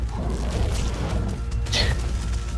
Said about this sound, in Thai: ระเบิดมา เทระเบิดมาเระเบิด